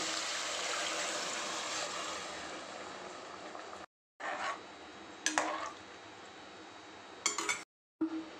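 Water is poured into a pot of dal, a steady stream at first, then broken into short splashes and metallic clinks of a vessel, with brief silent gaps between.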